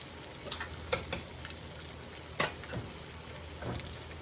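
Cornbread and onion fritters sizzle in hot grease, a quiet continuous crackle dotted with sharper pops and spits, close by and without talking.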